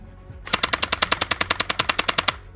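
An electric AK47 gel blaster toy gun fires a fast full-auto burst of about twenty even, crisp shots, close and loud, with no talk.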